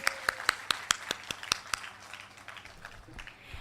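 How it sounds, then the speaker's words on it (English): Applause from an audience at a school cultural program, starting as a few sharp, distinct claps in a quick irregular rhythm during the first two seconds, then thinning into a softer, scattered patter at moderate distance. "Please give them another big round of applause"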